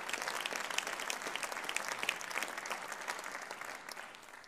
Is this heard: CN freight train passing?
no